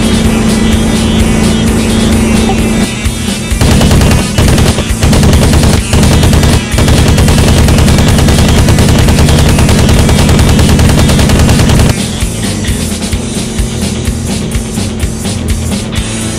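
Aircraft machine guns firing in a Spitfire and Hurricane flight game, a loud sustained rattle over a roaring engine drone, easing off near the end while the engine keeps going.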